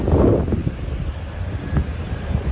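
A tram rolls in with a low rumbling roar and faint squealing wheels on the rails, steady and close, with wind buffeting the microphone.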